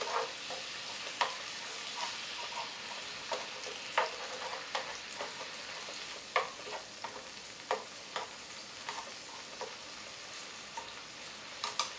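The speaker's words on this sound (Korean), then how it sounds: "자, 어느 정도 채소도 다 이렇게 풀어졌으면 한번 싹싹 볶아주시고" Vegetables stir-fried in a pan for spicy squid noodles, a soft continuous sizzle with frequent quick scraping and tapping strokes of the utensil, close up and fairly quiet, with no voices.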